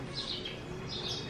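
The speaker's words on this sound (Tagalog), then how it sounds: "Sarap pakinggan ng mga ano ng ibon, huni ng ibon, ano?" Birds chirp faintly outdoors, two soft clusters of high tweets over a quiet background hum.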